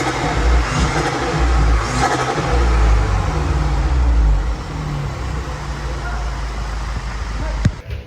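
A VW Scirocco engine revs loudly up close through a new exhaust, rising and falling in a throaty exhaust roar, then settles to a steady rumble.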